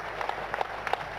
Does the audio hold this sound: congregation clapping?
yes